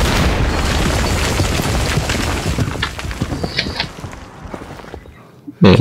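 A T-90 tank cannon in Battlefield 3 fires, and its loud, booming blast rolls into a long, rumbling decay. Scattered crackles and debris follow as the noise fades, and a sharp thump comes near the end.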